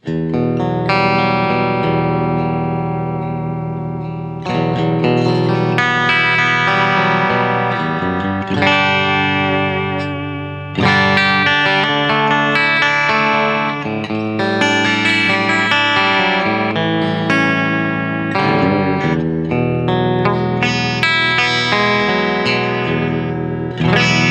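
Clean electric guitar, a Glarry GST-E on the bridge pickup through a clean amp channel, with a bright, twangy tone, strummed chords and picked notes ringing out with light reverb, continuous and fairly loud.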